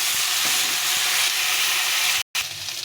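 Boiled elephant foot yam pieces fry in hot oil alongside partly fried potatoes, giving a loud, steady, close sizzle with faint stirring taps, cut by a brief silent gap near the end.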